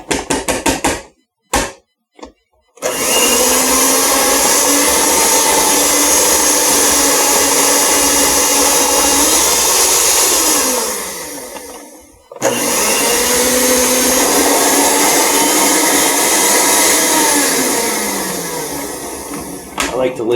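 Electric mixer beaters whirring through peanut butter tartlet batter, a loud, close motor drone running in two long stretches separated by a brief stop, with a few taps and knocks before it begins.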